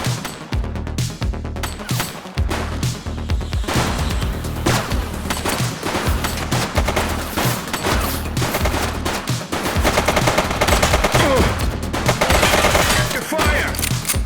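Sustained gunfire during a shootout with gang members in The Precinct video game: dense, loud bursts of rapid automatic fire and overlapping shots that continue without pause, with a brief shout in the mix.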